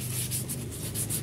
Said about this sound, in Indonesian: kalau udah bersih kita amplas halus supaya halus